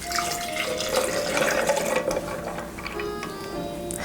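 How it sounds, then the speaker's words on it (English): Concord grape juice pours into a pitcher full of ice, a close, loud, steady liquid splash and gurgle that lasts a few seconds, with light clinks and no voices. "Now, add this into the pitcher full of ice."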